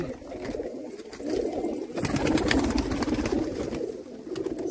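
Pigeons offered for sale in Jammu coo in a dense chorus that swells louder midway, rolling throaty calls from several birds nearby amid light rustling.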